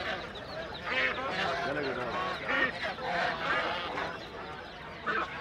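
A flock of geese honks and cackles continuously nearby at a village market in Fatullah, Narayanganj, Bangladesh, overlapping calls in a busy, noisy chorus with faint voices mixed in.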